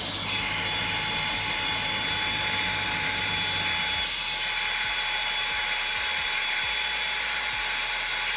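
A hairdryer roars steadily and close up on seat foam from a first-generation Toyota 4Runner, a constant high whooshing blow that shifts slightly in tone partway through, with no talking.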